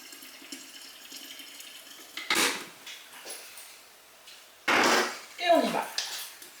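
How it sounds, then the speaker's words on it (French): Hot water poured from a bowl into mushroom soup, two short splashing gushes of liquid separated by pauses, close and fairly loud, with quiet clatter between. "Donc là on va rajouter un bol d'eau chaude"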